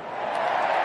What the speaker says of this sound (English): The response from the crowd.